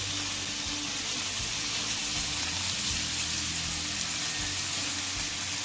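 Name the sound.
maple balsamic beer pork chops sizzling in a pan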